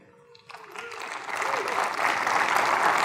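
Conference audience at a university discussion panel applauding to welcome a panelist to the stage, clapping swelling from sparse to steady full applause, with a voice briefly over the start.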